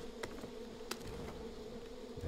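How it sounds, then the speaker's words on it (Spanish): Wasps buzz steadily in the Far Cry 5 shooter game, a close, continuous insect drone with a few short clicks and rustles over it. "Ya está lleno de avispas"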